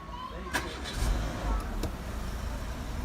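A Renault Megane 2 with a starting problem cranks and fires up, with a short burst as the engine catches and then settles into a low, steady idle close by.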